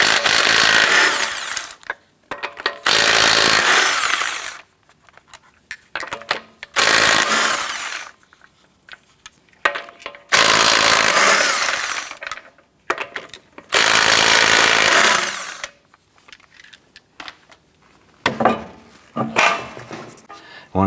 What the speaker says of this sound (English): Using a 19mm socket, remove your right front wheel.